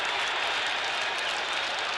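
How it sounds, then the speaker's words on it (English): Stadium crowd roaring at a 1974 rugby Test match between South Africa and the British Lions, a dense, steady wall of cheering and applause that holds loud and unbroken throughout. "The crowd going mad."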